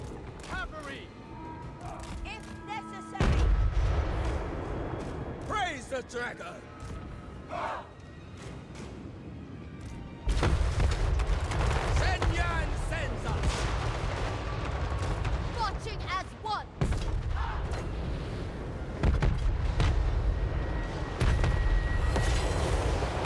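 Deep booms of cannon fire go off repeatedly amid clashing battle noise in Total War: Warhammer III, with sharp blasts scattered across the scene and a voice speaking at times.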